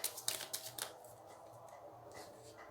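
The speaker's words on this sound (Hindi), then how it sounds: "Final shuffle." Tarot cards being shuffled: a few quick riffling, papery clicks and flutters up close, then softer fading shuffling over a quiet room hum.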